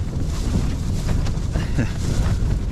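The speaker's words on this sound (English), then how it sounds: "it's been a bit of a wild night. Proper windy." Strong, steady wind at night on the exposed summit of Carrock Fell in the Lake District roars and buffets the microphone in a continuous rush, loud and close, with gusts swelling throughout.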